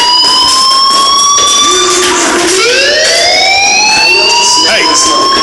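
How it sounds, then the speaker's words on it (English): A fire alarm wails in the video game Life is Strange, with loud, continuous rising and falling siren tones sweeping up and down over several seconds. "do you hear that fire alarm? That means you should be outside."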